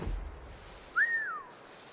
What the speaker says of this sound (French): Qui a sifflé?